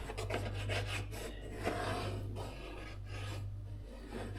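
A pencil traces around a template on a workpiece, giving close, dry rasping strokes that rub back and forth in short bursts over a low steady hum.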